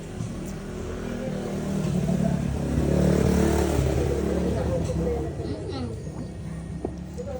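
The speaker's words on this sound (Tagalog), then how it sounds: "Yan lang ang maingay dito, mga motor." Motorcycles pass by a house, their engines rising to a loud drone in the middle and fading again, with voices speaking nearby.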